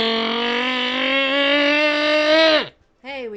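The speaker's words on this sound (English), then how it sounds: "Hey, we have a race car." A race car engine holds a high steady whine, then drops in pitch as it passes and fades, followed by a short second rising burst; close and loud.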